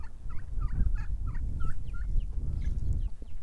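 A turkey hen gobbles repeatedly among free-range chickens on a farm, a run of short rhythmic calls over a constant low rumble of background noise.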